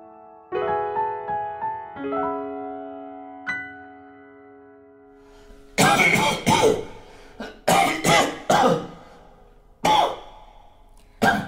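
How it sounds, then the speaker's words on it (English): A few tonal notes ring out, then a man sick with consumption bursts into harsh, loud coughs in clustered fits, close by, with short pauses between them. "Consumption has gripped him, and just about every night we hear him coughing"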